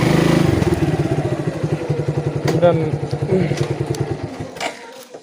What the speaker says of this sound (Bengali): বাইক আপনা আপনি চলে আসতেছে